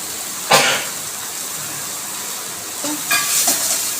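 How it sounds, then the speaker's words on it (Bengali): Prawns and yam stalks being sautéed in a pan with turmeric and a splash of water, a soft steady sizzle broken by a few sharp scrapes and stirring bursts, close and moderately loud. "এটাকে ভালো করে কষিয়ে নেব"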